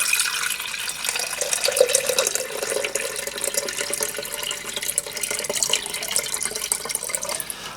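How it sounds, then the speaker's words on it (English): Water poured into the barrel of a KD-6808 mini rotary tumbler, a steady close splashing and trickling stream that runs through the whole stretch without talk. "I'm going to put some water in the barrel to give it some weight."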